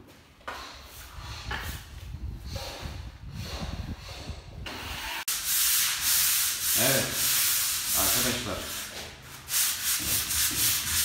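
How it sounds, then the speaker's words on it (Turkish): Abrasive sanding scrapes back and forth across a plastered ceiling, rough and continuous, getting louder partway through, with a brief spoken line near the start. "gördüğünüz üzere zımpara yapıyoruz şu an"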